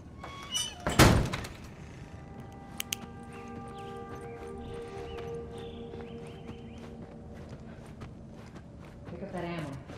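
A door shut in The Last of Us Part 1, a single sharp heavy thunk near the start followed by quiet shuffling footsteps and faint movement, with a voice speaking in the scene.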